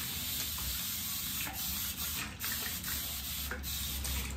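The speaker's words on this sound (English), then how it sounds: "I'm just gonna spray some." Hair product is sprayed from a bottle in short, steady hissing bursts, close and continuous with brief pauses, with no talking over it.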